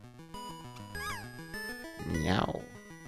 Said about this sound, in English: Meow. Don't be afraid, it's just a kitty.